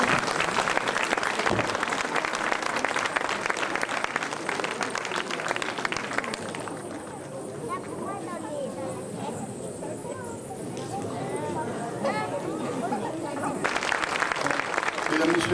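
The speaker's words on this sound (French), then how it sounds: "Mesdames, Messieurs, je ne mérite pas ces applaudissements." An audience at a Hmong stage show applauds in dense, continuous clapping. The applause softens in the middle while someone speaks over it, then swells again toward the end.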